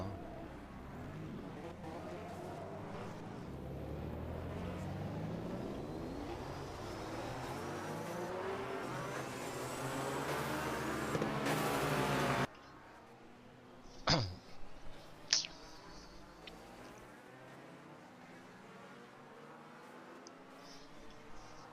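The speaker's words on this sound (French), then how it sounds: "Une petite colonie de voitures, le petit train qui se met en route doucement." A pack of racing cars from the 1983 DRM race at Hockenheim moves off slowly, engine drone swelling over several seconds, then dropping to quieter ambience with a couple of brief sharp sounds.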